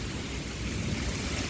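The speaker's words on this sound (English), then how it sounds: "You can see the rain falling." Steady rain falls outside a building under construction for a workshop, a dense, even hiss that stays constant and fairly close throughout, with no voices.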